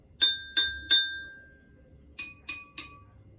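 A spoon taps one drinking glass three times, then after a pause taps a second glass three times, the second set sounding a different pitch.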